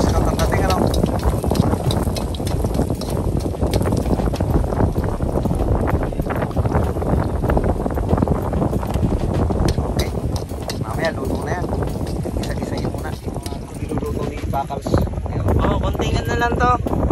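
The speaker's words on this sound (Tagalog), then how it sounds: "Lakas ng hangin." Strong wind at a beach buffets the microphone in a continuous loud roar with gusty surges, close and unbroken throughout.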